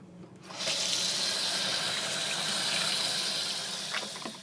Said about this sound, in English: remember to wash your hands